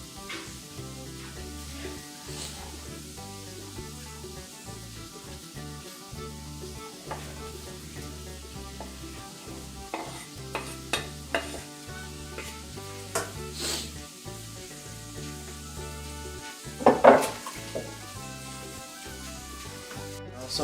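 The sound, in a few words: sausage and onions sizzling in a pan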